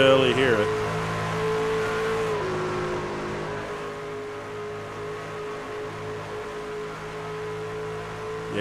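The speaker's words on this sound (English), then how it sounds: "listen to him get out of the throttle there." Race truck engine at Indianapolis Motor Speedway in a C.O.P.S. Truck Series race, a loud steady tone that drops in pitch as the driver lifts off the throttle, then holds a lower drone, with commentators talking over it.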